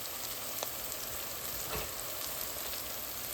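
Onion, banana pepper and curry chilli sautéing in a pan, a steady soft hiss of frying with faint crackles throughout, close and unbroken.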